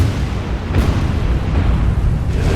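A warship blowing up under attack in the naval combat game War on the Sea, heard as a loud, sustained, low rumbling roar that fills the whole stretch without letup.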